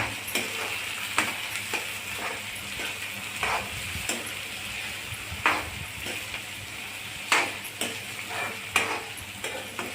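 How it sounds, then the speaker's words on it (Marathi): Urad dal, tomato, onion and green chilli being sautéed in a pan for tomato rava upma, with a steady sizzle and frying crackle punctuated by periodic scrapes and clinks of a stirring spoon, close and moderately loud. "आता सगळं छान परतून घेणे."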